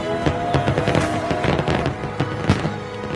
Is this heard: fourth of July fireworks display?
yes